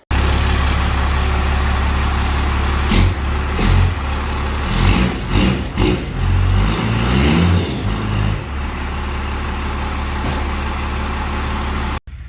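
A first-generation Cummins diesel truck fitted with a stainless MBRP exhaust idles loudly, then revs up in several bursts before settling back to a steady idle, close by.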